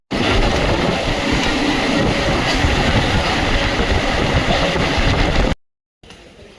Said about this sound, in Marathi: ट्रेन पकडून आम्ही पुढचा प्रवास चालू केलेला आहे